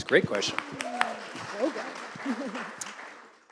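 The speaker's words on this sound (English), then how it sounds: "Give her an applause." Audience applause at a live networking seminar, a broad clatter of clapping that fills the room while a person speaks over it, fading toward the end.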